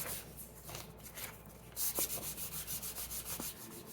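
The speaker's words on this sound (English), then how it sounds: "now I have kind of rubbed out all those pits, and I'm going to sand all of these" Laser-etched wood pieces, including cherry and maple, being sanded by hand, producing a close, steady rhythmic scratching rasp of repeated back-and-forth strokes, fairly quiet and without talk.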